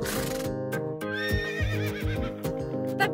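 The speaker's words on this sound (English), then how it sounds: "The horse says neigh." A horse neighs with a long, shaky whinny, heard over a steady, bouncy musical backing, with no talking.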